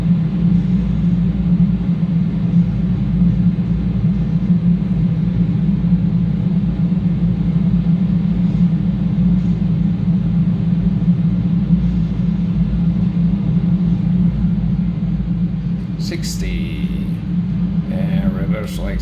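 A Boeing 767's engines roar in reverse thrust after touchdown on the runway at Rimini, a loud, steady low rumble heard from the cockpit, easing slightly near the end, with crew voices briefly audible.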